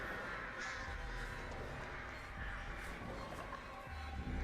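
Crows cawing inside the horror video game Dead by Daylight, several harsh caws repeating over a steady dense game ambience, fairly close and loud throughout.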